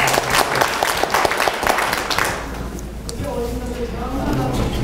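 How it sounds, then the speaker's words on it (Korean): An audience applauds cleaning workers at a labor testimony gathering, a burst of clapping for about two seconds that fades into a speaker's voice. "우리 힘내시라고 박수 한번 잘 쳐서."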